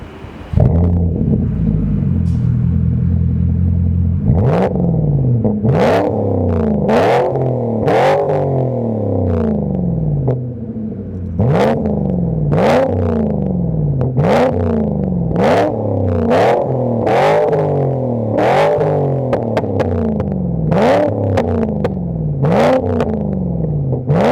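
A Volvo S80 V8 with a custom exhaust revs repeatedly from idle at a standstill in sharp bursts, deep and rumbling, each rising and falling, loud and close with a steady burble between.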